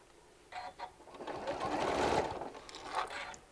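A sewing machine stitches through a fabric walker bag, running in short slow bursts that build to a longer steady whir, close and clear with no talking over it.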